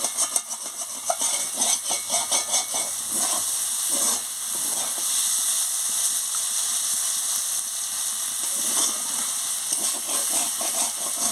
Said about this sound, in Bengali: দেখুন কি সুন্দর লাল লাল হয়ে ভাজা হয়ে যাচ্ছে